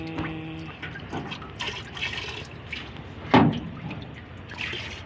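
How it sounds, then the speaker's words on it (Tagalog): Melted candle wax for a ring-type candle pours into a container with a close liquid trickle and gurgle, several short splashing bursts and one louder splash partway through. "Saka natin ibubuhos doon sa ating sa ating"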